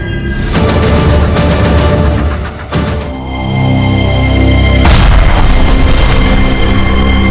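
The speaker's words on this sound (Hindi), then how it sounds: "छत्तीसगढ़ के डीजीपी की कार में हुआ धमाका" A car bomb explosion: a heavy, roaring boom tears through a dense rumbling backdrop, dips briefly, then a second loud blast swells and sustains, in a TV crime drama.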